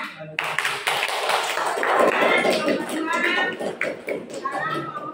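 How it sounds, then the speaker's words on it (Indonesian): Students in a classroom applaud a presenting group, a dense burst of hand clapping that starts abruptly and carries on for several seconds, with voices and chatter mixed in. "Tepuk tangan untuk temannya."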